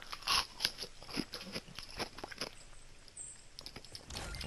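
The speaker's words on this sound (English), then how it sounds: "Just bite the popsicle and eat it." A bite and crunch into a frozen popsicle, with several crisp cracking snaps early on followed by softer chewing crunches, close and fairly faint.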